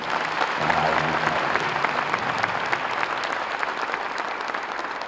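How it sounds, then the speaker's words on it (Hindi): A crowd at a sewing-machine distribution ceremony in Gorakhpur claps loudly and continuously, a dense even wash of applause, with a brief voice or tone underneath early on. "एक जोरदार ताली हमारे महाराज जी।"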